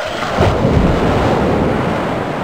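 Loud thunder sound effect from the Arthur's Teacher Trouble PC spelling game, a sustained rumbling crash with a sharper crack near the start, heard alone.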